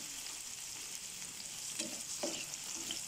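Onion goes into a hot pan for shrimp with oyster sauce and vegetables and sautés with a steady, close sizzle, joined by a few stirring scrapes near the end and no talking.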